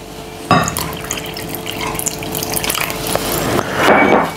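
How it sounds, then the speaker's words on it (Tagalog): Hot water poured gradually into a flour mixture with olive oil and lemon juice for homemade phyllo dough, a steady splashing stream that swells near the end, no talking. "At gradually add natin itong hot water natin."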